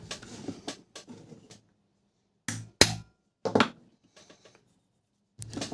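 A few sharp metallic taps of a hammer on a center punch marking metal strike in quick isolated bursts, close by, separated by short silences.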